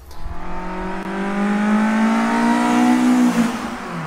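A rebuilt, self-tuned and carbureted Volkswagen Golf GTI engine revs steadily and loudly close by, its pitch climbing through a long sustained pull with no talk over it.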